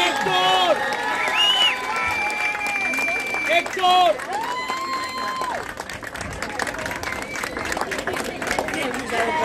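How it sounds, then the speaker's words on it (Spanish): A crowd claps and cheers at the 2019 Punta Venado 21K race awards ceremony as the winner is honored. The applause is mixed with an announcer's voice and bursts of louder clapping toward the end. "Un aplauso para el 21K,"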